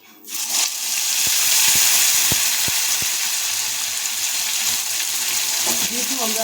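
A paste of onion, green chili and ginger hits hot oil in a kadai and sizzles loudly and steadily, with a few sharp clicks from stirring near the start.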